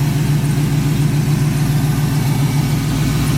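A 1976 Chevy El Camino engine idles steadily up close, a smooth, even low rumble with a regular pulsing beat and no change in speed, with no voices over it.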